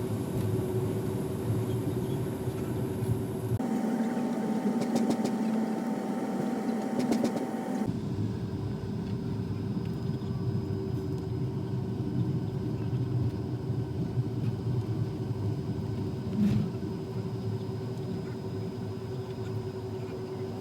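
Inside the cabin of an Air France Hop plane taxiing, a steady low engine rumble drones on with shifting whine tones and a brief change in pitch partway through, continuous and fairly loud with no talking.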